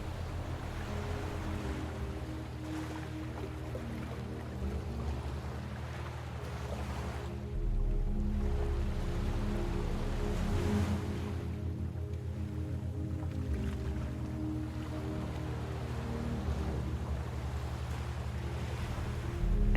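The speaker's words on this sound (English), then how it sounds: "the wave rolls back into the ocean" Ocean waves wash steadily onto sand as a constant soft surf hiss, swelling slightly louder midway, beneath a calm sustained musical drone.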